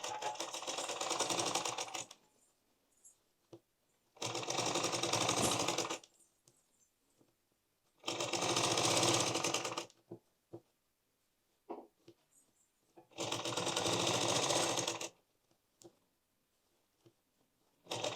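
A sewing machine stitching a blouse runs in four loud, steady bursts of rapid needle chatter, each about two seconds long, separated by quiet pauses with light handling clicks.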